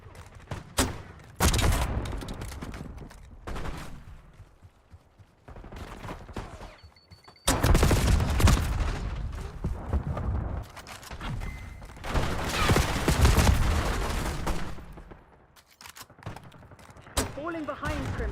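Video game gunfire, with repeated bursts of loud automatic shots and fusillades coming in waves, under intermittent game voice lines.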